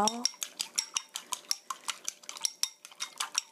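Eggs with a small pinch of salt are whisked in a bowl with a utensil, a brisk, regular series of close clinks and taps against the bowl, about five strokes per second.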